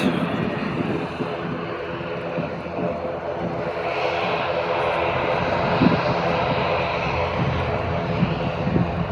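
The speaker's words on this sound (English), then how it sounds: "And another ATR taxiing out." ATR 72-600 turboprop airliner taxiing at Manchester Airport, seen from the runway visitor park, a loud steady propeller and engine drone with a broadband roar that swells slightly midway, with a voice speaking over it.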